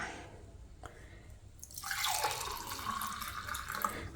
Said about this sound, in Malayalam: നമുക്കിത് ഗ്ലാസ്സിലേക്ക് ഒഴിച്ചു നോക്കാം